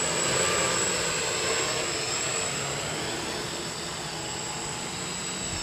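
An eight-propeller octocopter with 2212 brushless motors hovers low to the ground, giving a steady, loud whirring drone with a high whine that holds constant throughout, with no voices.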